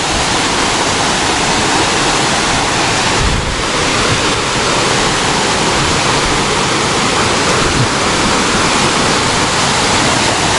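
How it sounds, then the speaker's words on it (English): The 18-meter Shaki waterfall in Armenia roars as a loud, constant wash of falling water, steady and dense from start to finish with no voices. "This is the Shaki waterfall."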